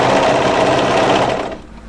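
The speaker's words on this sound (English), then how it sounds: "we want to overlock straight through until we meet up with our previous overlocking" An overlocker stitches straight through dress fabric in a short, steady mechanical whir that runs loud and even before slowing and trailing off at the end.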